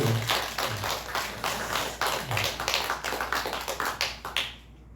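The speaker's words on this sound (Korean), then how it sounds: "박수로 또 환영하겠습니다" A church congregation at a Korean Sunday worship service applauds to welcome newcomers: dense, steady clapping from many hands that fills the room, then stops abruptly near the end.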